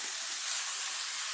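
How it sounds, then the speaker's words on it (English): A whole bunch of chopped spinach wilting in butter in a hot pan gives a steady, close sizzle and hiss with no breaks. "we're going to take an entire bunch of spinach, and we're going to wilt it in the butter"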